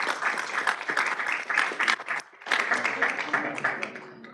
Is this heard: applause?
yes